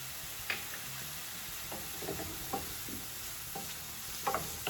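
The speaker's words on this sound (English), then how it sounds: "While the peppers and onions are sauteing" Peppers and onions sauté in a pan with a quiet, even sizzle, dotted with light taps and scrapes from stirring.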